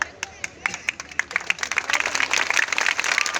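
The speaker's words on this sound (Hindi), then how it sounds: "लोगों ने तालियां बजाकर नारों के साथ बहुत ही गर्मजोशी के साथ स्वागत किया है।" A crowd at an election rally in Dumariya Ghat Husaini claps for Rajnath Singh, starting as a few sharp separate claps and quickly building into dense, steady applause with voices mixed in.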